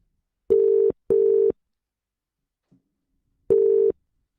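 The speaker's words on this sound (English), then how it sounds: "Should I give Kev a call?" A phone line gives its ringback tone in short, identical buzzing bursts. Two come close together, and a third follows after a pause. There is silence between them and no one speaks.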